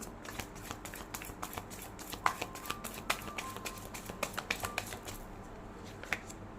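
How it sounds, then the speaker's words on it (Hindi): Tarot cards laid out one by one on a table, giving a run of light, crisp taps and card slaps at an uneven pace, close and fairly quiet. "ओके, मैं ऐसे रख रही हूँ 4 कार्ड्स को।"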